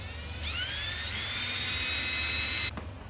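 A power drill bores into a wooden door hinge area at a stripped screw hole, spinning up with a rising high whine that holds steady and loud for about two seconds before cutting off abruptly.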